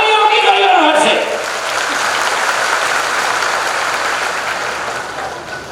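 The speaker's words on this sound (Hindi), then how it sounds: "तालियों की गड़गड़ाहट से" A large crowd at a political rally breaks into thunderous applause, a dense, sustained roar of clapping that slowly fades, with a voice briefly audible at the start.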